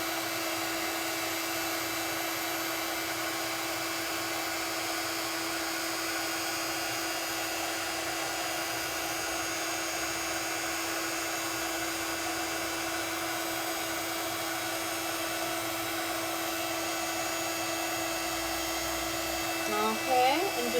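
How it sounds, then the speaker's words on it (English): Steady, close whirring of a heat gun melting embossing powder to a bright white finish. It runs as a continuous fan hum with a high tonal whine and shifts briefly at the very end. "we can just move the heat gun over, and as we move it over, it's going to go to that lovely bright white finish"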